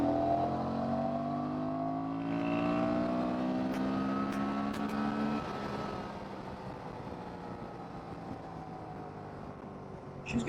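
A Honda Transalp motorcycle pulls hard in third gear from about 40 to 60, its engine note climbing steadily in pitch for several seconds before easing off, with wind rush behind it.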